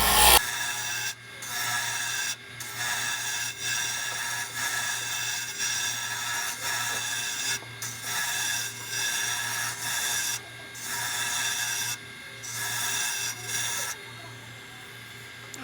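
Abrasive strokes rub across a turned wooden pen blank as it is sanded smooth, coming in close bursts of a second or two, separated by brief pauses, over a faint steady hum.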